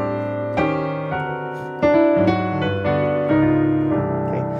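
A tune played on a piano or keyboard with added passing chords, a sequence of sustained chords struck one after another, clear and close with no talking.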